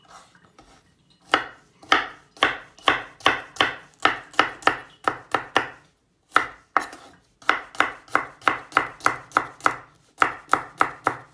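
A knife chops garlic on a cutting board for Spanish alioli: crisp, close, rhythmic chops in quick runs with short pauses between them, and no talking.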